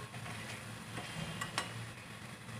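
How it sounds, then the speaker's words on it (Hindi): Long-sliced capsicum sizzles in hot oil on a high flame in a pan of paneer bharta, with a steady frying hiss and soft scraping stirs close by, and no talking. "इसमें ये शिमला मिर्ची डाल देती हूँ जो मैंने लंबे लंबे स्लाइस किए,"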